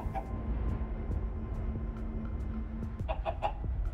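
Chicken clucking in the video game Minecraft Story Mode, a few scattered clucks rising over a low steady background hum, with a brief cluster of sharper bird calls near the end.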